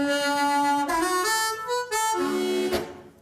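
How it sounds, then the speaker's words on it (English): A harmonica played plainly, without effects, sounds a few sustained bright notes in a short phrase, clear and close with no talking. "If I play the harmonica normally"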